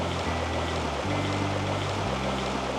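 A fast-flowing trout stream rushes in a steady, broadband wash that stays constant and close, with a low drone running underneath and no talking.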